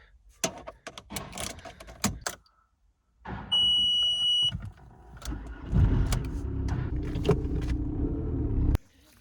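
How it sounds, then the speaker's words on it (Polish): A car starts after door thumps and a brief electronic chime, its engine catching and settling into a steady low rumble that continues close by. "ja odpalam samochód"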